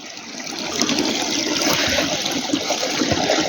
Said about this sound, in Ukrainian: Ось так вода тече попід землю, де-не-де виринає